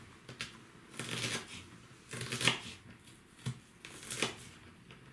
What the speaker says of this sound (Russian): его будем резать меленькими-меленькими кусочками.